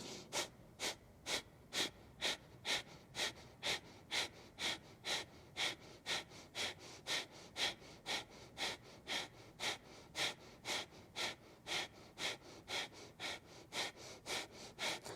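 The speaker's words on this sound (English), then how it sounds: "bring in that breath of fire here" Rapid breath-of-fire yoga breathing, evenly paced forceful exhales through the nose, about two per second, repeated steadily for many cycles, close and fairly quiet.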